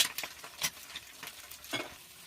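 An onion omelette fries in oil in a pan, a close crackling sizzle with uneven bursts and spatters over a short stretch.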